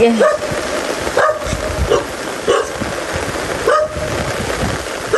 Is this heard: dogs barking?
yes